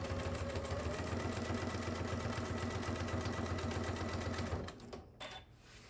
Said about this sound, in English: I'm doing a stitch length number 3 on this machine because this walking foot doesn't really like going over the hook part